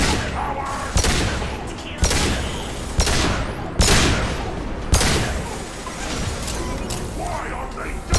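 Gunfire in the sci-fi shooter Mass Effect 2, a run of sharp, loud shots and impacts arriving roughly once a second over a busy rumble of combat, with voices speaking now and then.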